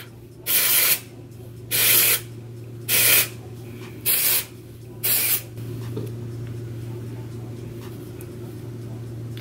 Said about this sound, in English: First, we're gonna use the dry shampoo from Eva NYC. Freshen up dry shampoo.